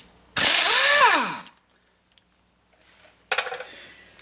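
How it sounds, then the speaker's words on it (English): Metal rings out from a hammer striking the side of a lower ball joint on a 1988–1999 GMC/Chevy truck, first as one long ringing blow that decays, then after a pause as a sharper burst of clanks up close. "I'll take a hammer, hit the side."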